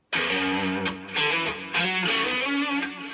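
Electric guitar played through the first channel of a Soldano SLO amplifier, a few loud sustained chords and ringing notes with harmonic-rich overdriven tone, alone without talk.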